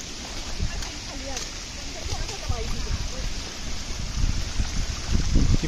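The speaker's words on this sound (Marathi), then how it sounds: "ती पाण्याची धार अशी चालली बाबा." Water rushes and trickles steadily along a forest stream on a monsoon jungle trek in the Tamhini Ghat, with a waterfall nearby; the flow stays close and constant while a voice talks over it and footsteps sound near the end.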